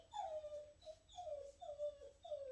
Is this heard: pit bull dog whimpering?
yes